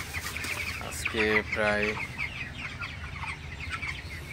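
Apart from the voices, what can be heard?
broiler chickens clucking on a farm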